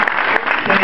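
Audience applause during an Italian stage or music show, a short, dense burst of clapping under a second long with a few sharper individual claps standing out.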